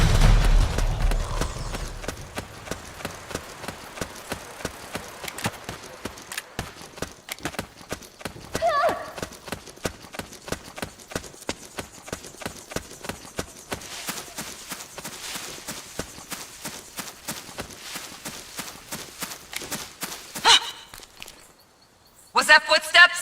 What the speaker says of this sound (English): I hear footsteps.